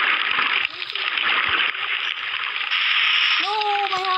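Water splashing in the Mini Block Craft video game: a loud, steady rushing splash with no pauses, joined near the end by a voice that rises and falls.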